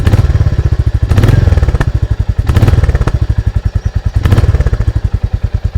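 A 2021 Royal Enfield Classic 350 motorcycle engine idles at low revs with a steady, rhythmic thumping pulse, loud and close, with occasional heavier throttle blips.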